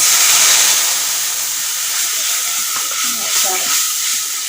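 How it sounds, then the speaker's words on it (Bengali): Water poured into a pan of hot whole white cumin tempering gives a loud, steady hissing sizzle that holds through the clip and eases slightly, with faint voices underneath. "এবার দিয়ে দেবো জল"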